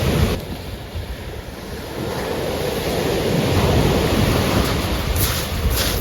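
Wind and surf on a UK beach in autumn during a fishing session, with a steady, loud roar of breaking waves and gusty wind buffeting the microphone throughout and no voices.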